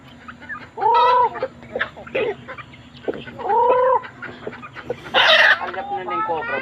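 Chickens on a rural mountainside farm cluck loudly and close by, giving several drawn-out squawking calls separated by short pauses, over a faint background hum.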